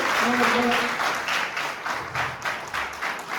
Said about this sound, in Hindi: हम लोग भी तालियां बजाते हुए स्वागत करेंगे